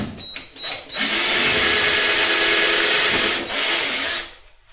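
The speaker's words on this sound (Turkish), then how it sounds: "Deliklerini deliyorum. Kulpların." A power drill bores holes for porcelain drawer handles in a wooden children's trundle bed with storage, one steady whirring run of about three seconds, close and loud.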